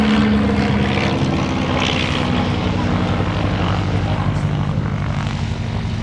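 A Miles Magister wooden monoplane trainer flies at the East Kirkby airshow, its propeller engine a loud, steady drone with a low buzzing hum, sustained throughout with slight shifts in pitch.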